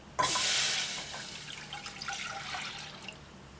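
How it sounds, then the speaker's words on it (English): Filtered water pours into a pot in a sudden rush that starts loud and then settles into a softer splashing and trickling, close by and without talk. "at least 2 cups of filtered water. So we're going to throw that in our pot"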